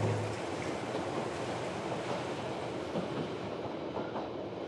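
A train runs on the Nice–Digne railway along a ledge above the Vaire valley near Méaille, giving a continuous broad rumble and rattle of carriages on the track, steady and fairly close.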